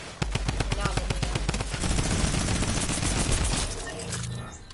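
AK rifle gunfire in a video game, a fast loud burst of automatic shots followed by a denser roar of continuous fire that tails off.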